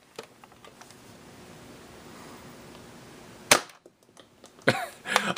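A Nerf Sonic Ice Retaliator toy blaster fires foam darts: a quiet stretch of faint handling, then a sharp springy pop of a shot, brief rattles, and another burst of mechanical clatter near the end, close by.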